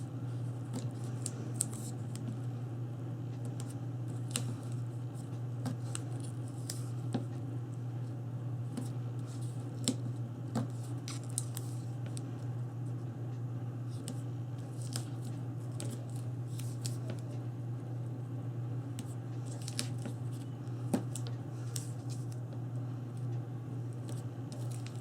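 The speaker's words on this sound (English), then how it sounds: "I've got some tails here that I need to just quickly cut off." Scissors snipping tape tails off a paper bag mini album, a series of soft, scattered clicks and snips over a steady low hum, with no voices.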